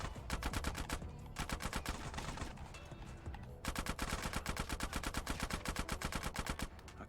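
Rapid automatic gunfire in GTA: San Andreas Definitive Edition during a gang shootout in South Central, dense bursts of shots in a fast steady rhythm, briefly pausing before resuming loud and close.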